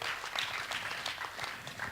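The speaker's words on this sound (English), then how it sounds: "that kind of clapping, I feel like I'm at the ballet" Polite applause from an audience at a leadership gathering: sparse, individual claps spaced irregularly, moderately close and fairly quiet, with no one speaking over it.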